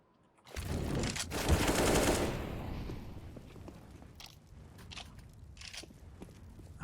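Gunfire in Counter-Strike (CSGO) during a competitive match: a burst of rapid automatic shots fired through smoke, loud for about two seconds, then fading into scattered footsteps and faint game clicks.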